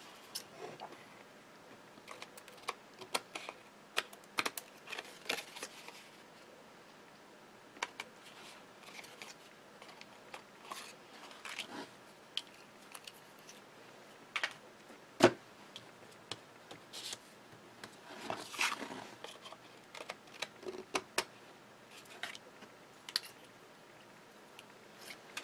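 Foil-decorated card edges are trimmed by hand, with scattered faint snips, ticks and paper rustles spread sparsely over a long quiet stretch, no voices.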